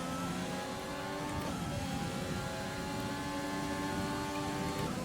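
Formula 1 race car engine from F1 2020 at the Australian GP, a steady loud high-pitched whine held at high revs with a brief gear change, continuous and up close.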